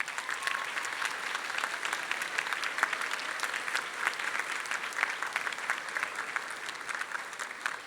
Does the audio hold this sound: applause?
yes